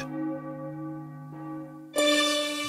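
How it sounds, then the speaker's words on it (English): Church bells of Richmond during the Civil War ring out in a few overlapping, resonant strikes, each leaving a long humming decay, the last strike brighter and louder. "He could hear the church bells of Richmond."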